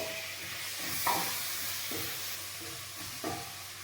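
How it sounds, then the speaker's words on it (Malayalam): Capsicum and tomato sauté in a pan with a soft, close sizzle, and a spoon scrapes and stirs in a few brief strokes over the hiss. "ഈ ക്യാപ്സിക്കം ഒന്ന് വഴഞ്ഞ് വന്നിട്ടുണ്ട്. അപ്പോൾ നമുക്ക് ടൊമാറ്റോ ആഡ് ചെയ്യാം."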